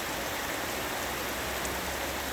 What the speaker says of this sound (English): all of a sudden it starts to rain. It was hailing a little bit as well.